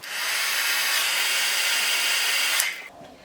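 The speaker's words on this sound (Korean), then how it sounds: "이렇게 말아준 다음에 드라이기로 아까와 같이 똑같이 해주시면 되세요." A hair dryer blows steadily and loudly up close over hair set in rollers, a bright airy roar that runs for a few seconds before clicking off abruptly.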